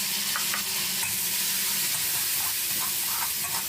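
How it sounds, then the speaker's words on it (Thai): Garlic and a prepared sauce are stir-fried in hot oil, giving a loud, steady sizzle and hiss with intermittent scraping of the spatula throughout. "ใส่น้ำมันลงไปน้ำมันร้อนได้ที่เราก็ผัดนำกระเทียมลงไปผัดให้ เหลืองหอมเลยครับ พอกระเทียมของเราได้ที่แล้วตามด้วยน้ำซอสที่เราปรุงไว้ครับ"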